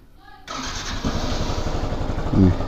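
A motorcycle engine catches and starts, then runs at a steady close idle with a slight rise in revs near the end, in Nepal before a ride to Namobuddha.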